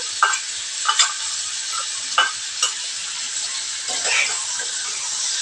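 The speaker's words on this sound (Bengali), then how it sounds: "ঝিঙেটা দিয়ে একটু নাড়িয়ে নেবো" Ridge gourd and potato pieces frying in a pan, a steady sizzle broken by several sharp spatula clicks and scrapes as the vegetables are stirred, with no voices.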